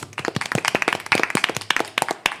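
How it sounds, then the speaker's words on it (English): Audience at a city board of aldermen meeting clapping, a small group's sharp, close hand claps in an uneven patter, fairly faint. "you can clap, go ahead"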